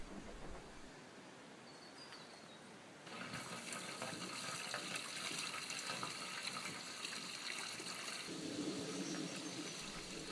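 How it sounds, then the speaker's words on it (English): Kitchen sink waste water pours from a white pipe into a tub, a steady close gush and splash that gets stronger partway through and keeps running. "The kitchen sink waste comes out of the white pipe and goes into the tub."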